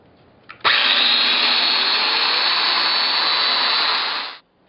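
Festool Domino joiner cutting mortises into butcher block trim: a single sustained, loud motor whine that starts abruptly, holds steady for about four seconds, then cuts off.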